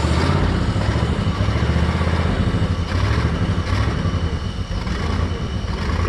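A computer-controlled engine running on propane, held up with heavy throttle, drones loudly and steadily at close range with a rough, clattering low rumble and no pauses.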